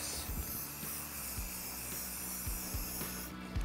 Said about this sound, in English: when you're spraying, you just want light coats